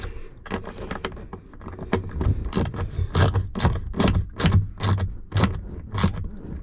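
Accessory screws from a kit being snugged into a Ford Super Duty truck, a series of sharp ratcheting clicks in quick rhythmic bursts, close and fairly loud.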